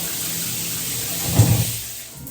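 A filtered shower head sprays water in a steady, broad hiss throughout, with a brief thump or splash partway through and no talking.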